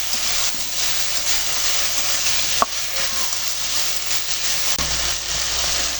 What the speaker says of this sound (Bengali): এখন এটা লাল লাল করে ভাজতে থাকবো